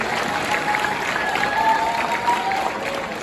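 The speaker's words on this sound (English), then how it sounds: "Give yourself a round of applause, the one that want to live." An audience applauds at a talk in a steady, fairly distant wash of clapping that holds at an even level throughout, with crowd noise and a thin tone in the background.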